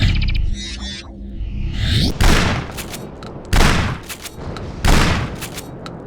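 Shotgun blasts in a first-person shooter video game, three loud heavy booms spaced about a second apart with long decaying tails, preceded by mechanical game sounds and a brief rising whoosh, no voices.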